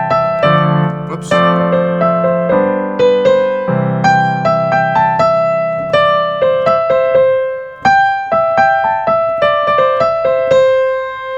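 A bright plucky synth melody from a song plays alone over a low bass, a bouncy, rhythmic lead line with call-and-response phrasing that sits loud and close.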